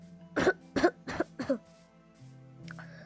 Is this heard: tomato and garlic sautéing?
no